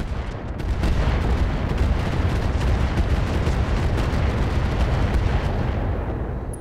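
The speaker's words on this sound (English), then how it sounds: "We'll just fire the Apollos on the archer" Apollo missile salvo launching in the mech combat game Roguetech, a dense roaring barrage of rapid blasts and rumbling booms that runs continuously and loud for several seconds before tailing off.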